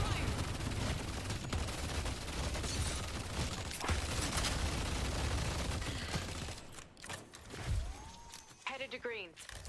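Gunfire in the video game Deadlock rattles on as a loud, continuous barrage of overlapping shots for most of the stretch, then thins out as voices and game chatter take over near the end.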